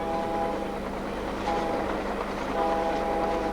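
Passenger train travelling through the Canadian Rocky Mountains toward Banff, a steady loud rumble of rolling carriages with faint tonal whine rising briefly, continuous throughout with no voices.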